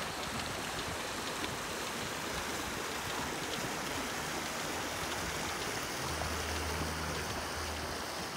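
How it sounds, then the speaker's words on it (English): Raging stream water beside a golf course, a continuous dense rushing hiss that stays steady and fairly faint, with a low hum near the end and no voices. "Got the raging water here."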